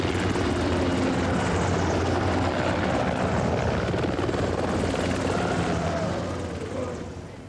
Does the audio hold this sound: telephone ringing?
no